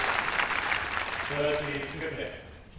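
Tennis crowd at a women's match applauding and cheering in a steady broad wash, with a commentator's voice speaking over it partway through.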